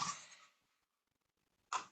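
A person coughing, with a short rough burst at the start and another at the end separated by near silence, close and moderately loud.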